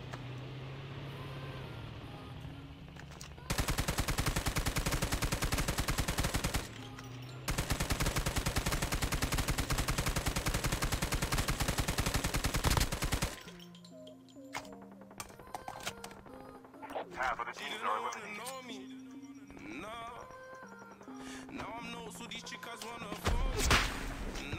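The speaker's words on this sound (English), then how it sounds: "He's shooting over there." Gunfire in COD Mobile Battle Royale, two long dense bursts of rapid automatic fire, loud and close. Quieter game sounds and scattered tones follow.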